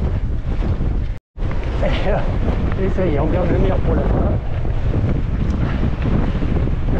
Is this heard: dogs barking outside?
no